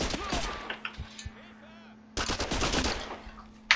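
Rapid bursts of gunfire from the video game Mortyr IV: Operation Thunderstorm, a loud volley at the start, a quieter stretch with scattered shots, then a renewed sustained burst and a final sharp shot.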